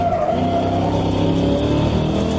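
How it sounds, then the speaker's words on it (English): Ford Mustang Cobra R race car drifting through a corner at Camp Steeda, its engine a loud, continuous drone with strong low harmonics and a faint tire-scrub hiss, without any talking. "If you do it just right, you can drift the car through."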